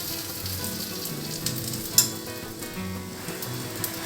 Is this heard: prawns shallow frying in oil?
yes